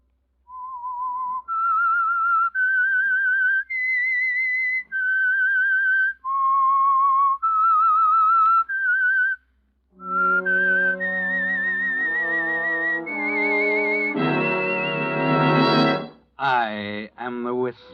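A lone whistler carries a slow, eerie theme tune for a radio mystery show, one long held note after another, followed by a swelling orchestral passage.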